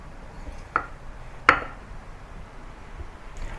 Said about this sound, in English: Then cut it into small pieces